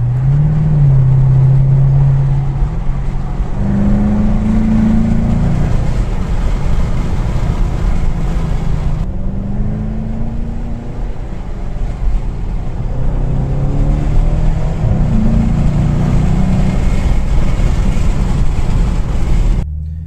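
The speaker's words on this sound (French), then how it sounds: "c'est le bruit du moteur, il est vraiment sympa" A Chevrolet Camaro SS V8 engine revs in manual mode, rising and falling through several throaty pulls over a steady road rumble, loud and close throughout.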